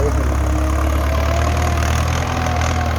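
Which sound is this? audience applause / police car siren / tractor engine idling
tractor engine idling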